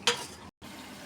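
Tomato paste is stirred into a pan of thum biryani, giving a quick scrape followed by a steady, soft sizzle that cuts out for a split second, then resumes.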